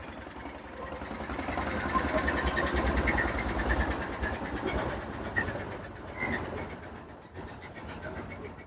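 A fishing boat's engine arrives at the riverside on a morning near Kolkata, a steady mid-pitched rumble that stays loud and continuous throughout with slight swells.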